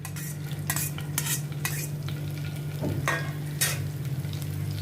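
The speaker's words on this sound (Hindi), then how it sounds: "तो अभी मैं थोड़ा सौते करती हूँ।" Cumin seeds and chopped green chili sizzle steadily in a hot pan while a spoon stirs them, with several scraping strokes against the pan over the constant frying hiss, all close up and without talk.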